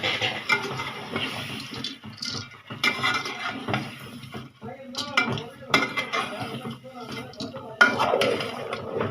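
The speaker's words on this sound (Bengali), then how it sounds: "এই তো একটু লাড়া দিয়ে নি" A curry of vegetables and lentils being stirred in a cooking pot, with scraping and clinking of a spoon against metal at close range, set among kitchen clatter and watery sounds and broken by short pauses.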